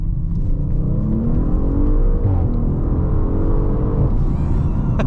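A 2023 Audi RS 5 Sportback held in second gear with paddle shifters, its engine revving hard and climbing in pitch under acceleration, loud and close with a steady rumbling drone and a brief shift-like dip near the end.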